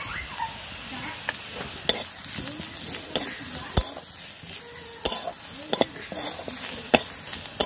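A spoon stirs onion, chilli, turmeric and cumin powder frying in a pan, giving a soft sizzle beneath repeated sharp scrapes and knocks against the metal, close up and irregular, with no speech.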